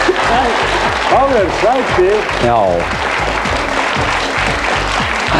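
A studio audience on a 1996 Icelandic Saturday-night TV show applauds steadily, with the clapping running under a voice and loud speech throughout.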